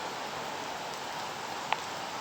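Light drizzle patters at Sakkarbaug zoo in Junagadh, a soft, even hiss of fine rain with a single sharper drop tapping near the end, faint and steady with no one talking.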